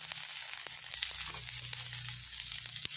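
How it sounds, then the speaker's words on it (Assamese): Chopped onions fry in mustard oil over a low flame, giving a steady, close sizzle with faint crackles and a few soft stirring taps. "এতিয়া মই ইয়াত দি দিম কাটি থোৱা পিঁয়াজখিনি ল' ফ্লেমত।"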